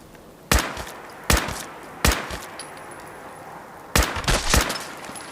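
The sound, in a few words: gunfire in Fallout 4 video game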